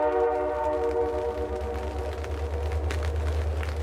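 A steady low rumble with sustained horn-like tones, like a train passing nearby, loud and continuous throughout.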